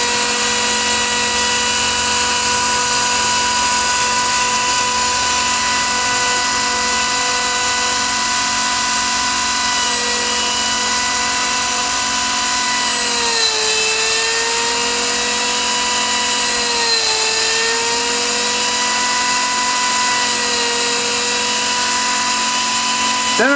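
A Lathezilla lathe spins while turning a centerless wooden finial, a steady tonal machine whine with layered harmonics that dips in pitch twice as the cutter bears into the wood.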